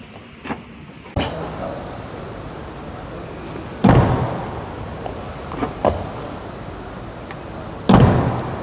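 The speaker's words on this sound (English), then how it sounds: "the doors and trunk close with an extremely satisfying thud" A Volkswagen Lamando's doors and trunk are shut one after another, producing four solid, heavy thuds spaced a couple of seconds apart over a low background hum.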